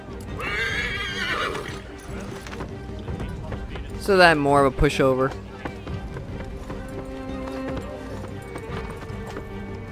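In Assassin's Creed III, set in colonial Boston, a horse lets out a loud, quavering whinny midway through, with hooves clip-clopping around it and someone talking at the start.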